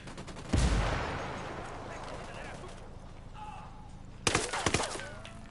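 Squad gunfire in Ghost Recon Wildlands, an opening loud shot with a decaying tail, then a later cluster of rapid shots, with game voices talking around them.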